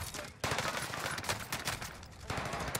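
Rapid gunfire in a Call of Duty-style match, repeated close, loud bursts of automatic shots with brief gaps between volleys.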